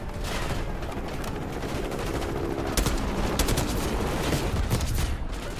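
Suppressed AK rifle fire in Black Ops 6, a rapid series of sharp shots in bursts over dense, continuous game noise, with no talk over it.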